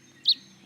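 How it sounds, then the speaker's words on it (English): A baby bird that fell from a tree gives a single short, high chirp outdoors, moderately close, over a low background hum. "I'd say some of this chirping is its mother"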